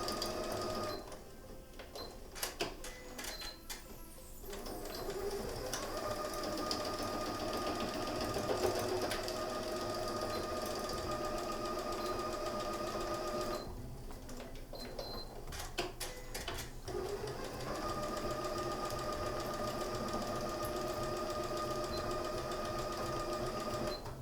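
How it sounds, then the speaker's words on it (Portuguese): A sewing machine stitches the two sides and lining of a milk carton box, running in long rapid bursts with brief pauses between them, close and steady, with no one speaking. "Costurar essa caixinha de leite nas 2 laterais e também no forro"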